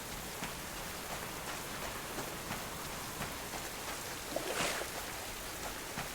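Steady rain falls in the survival game Subsistence as daylight fades, a continuous hiss of drops on surfaces with a brief louder swell near the end, no voices over it.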